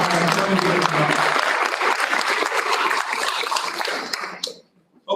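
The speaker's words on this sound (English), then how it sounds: "One last round of applause for" Audience applause at a school board meeting, a dense burst of clapping that starts loud and close, thins out and stops near the end, with a voice briefly over it at the start.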